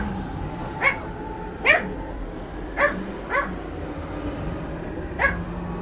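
A dog in a home barks in short, separate yips, about five spread over several seconds, moderately close with a low room hum between them.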